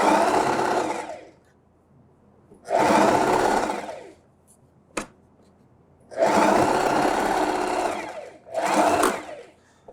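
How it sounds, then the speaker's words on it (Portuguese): A sewing machine runs a safety seam along the top of a dish towel in loud, close bursts of rapid whirring stitching, four runs separated by pauses, with one brief click between them. "essa parte de cima vai ser só uma costurinha de segurança mesmo"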